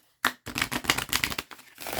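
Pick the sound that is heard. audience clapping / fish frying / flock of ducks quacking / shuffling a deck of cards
shuffling a deck of cards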